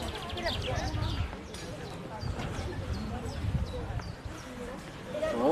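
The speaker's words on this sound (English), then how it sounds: "Look at the horse." Hooves clip-clop steadily at close range, mixed with street noise and people talking nearby.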